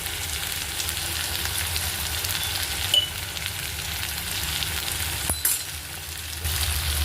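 Vegetables fry with turmeric, red chili powder, coriander powder and salt in a pan, a steady moderate sizzle with a couple of brief stirring clatters, and no one speaking.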